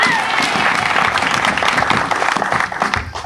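A church congregation bursts into loud, sustained applause during a special service of repentance, with dense clapping from many hands filling the room and a few voices rising through it.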